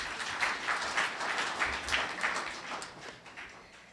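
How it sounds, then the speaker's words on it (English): An audience gives a round of applause after a presentation, with faint, steady clapping heard from a distance for a few seconds and no talk over it. "How about another round of applause for Michael?"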